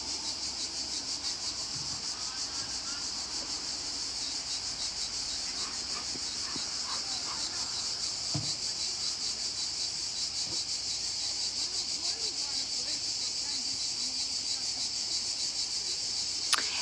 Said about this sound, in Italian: Le api che si alzano.